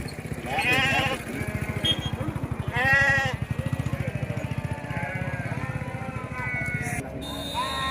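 Sheep bleat repeatedly at a busy livestock market in Gudur, with a steady rumble and a motorcycle-like engine under the calls and people talking nearby.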